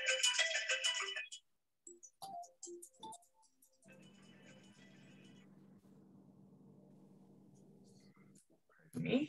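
A mobile phone ringtone rings during a knitting lesson on a hat, starting with a bright burst and then sounding as a steady, repeating electronic tone for several seconds before cutting off, with brief talk at the start and end.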